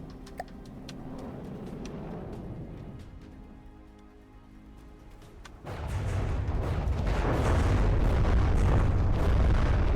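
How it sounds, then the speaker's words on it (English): Missile volleys strike in the naval combat game From the Depths, with scattered pops and rumble at first, then a sudden heavy boom about halfway through that swells into a sustained, loud explosive roar. "He's going to be taking the missile volley to the same side every time."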